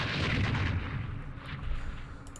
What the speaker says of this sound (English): let's fire at them with our machine guns. Then our mortars.